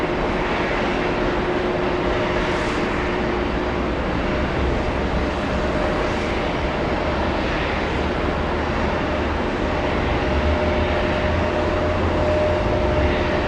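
A Lufthansa airliner at JFK airport, bound for Munich, produces a steady, loud jet engine roar with a low rumble that holds throughout, with no talking.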